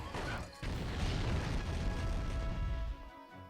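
Dharma Cannon attacks in Yu-Gi-Oh! The Falsebound Kingdom, a loud sustained crashing boom like heavy artillery with a rumbling low end, lasting a few seconds before fading away.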